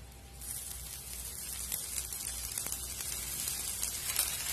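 Rava dosa frying on a hot griddle as oil is poured over it, giving a steady, close hiss of fine sizzling crackle that grows slightly louder and continues throughout with no talking.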